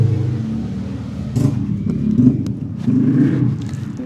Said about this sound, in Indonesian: Aduh, berisik kali motor.